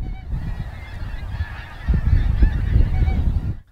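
A large flock of geese honking together at dawn as they lift off, a dense continuous clamor that swells louder midway, with many overlapping calls near and far.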